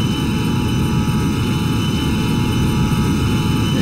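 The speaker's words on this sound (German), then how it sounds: "Ist so, als würde hier Flugzeuge fliegen." A continuous loud, rumbling aircraft drone in the video game Forsaken, steady and unbroken with a broad low roar and a faint high whine over it.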